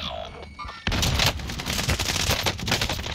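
AK rifle fire in Warzone, a quads match: after a brief lull, dense rapid bursts of gunfire crackle continuously at close range, loud and sustained through the rest of the clip.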